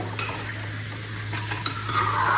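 Jaggery is stirred into a hot pan of cooking beetroot for laddoos, giving a soft, steady sizzle with light scraping and an occasional clink of a spoon, close by and without talking.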